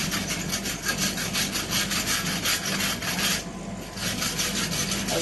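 Steady back-and-forth rasping of a wire brush scrubbing scale off a hand-forged metal wand, rhythmic strokes close up with a brief pause midway, no talking.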